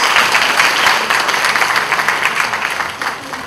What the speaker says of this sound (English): A huge round of applause for yourselves.